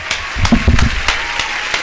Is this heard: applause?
yes